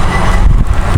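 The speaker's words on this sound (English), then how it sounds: "you may hear cars in the background" Cars passing on a street beside a sidewalk, a loud, close engine and tire rumble swelling briefly over steady traffic noise, with no speech.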